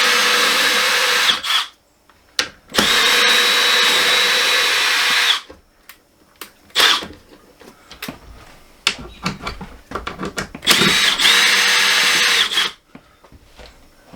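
Power drill backing screws out of slide room trim and fascia: long, loud, steady whirring runs alternating with shorter bursts and quiet pauses, close up, with clicks and handling noise between.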